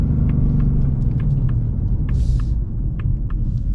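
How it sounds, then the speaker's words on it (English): A 2026 Ford Mustang GT's naturally aspirated V8 engine idles with a deep, steady rumble and slight throttle blips, loud and close throughout. "But I can still appreciate a beautiful, naturally aspirated V8"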